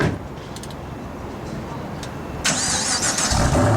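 A Vauxhall Maloo VXR8 with a 6.2-litre supercharged V8 cranks and fires up partway through, settling into a deep rumble; the surroundings are quiet beforehand.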